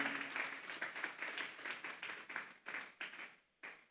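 A church congregation claps together as an offering to God, a close burst of dense, rapid applause that pulses in waves, thins out toward the end and stops with a final few claps.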